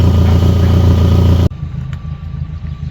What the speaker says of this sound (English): And the Ranger is heading out, so hopefully it does a good test drive